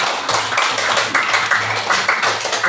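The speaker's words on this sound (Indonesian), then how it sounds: "Oke, tepuk tangan buat kelompok 3" A classroom of students claps for a group after its presentation, a short burst of brisk, uneven handclaps from several people close by.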